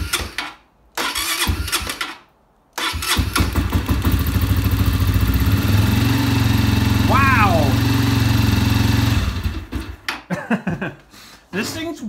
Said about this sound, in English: when it's running and it's warm, it idles really great, but it doesn't want to idle when it's cold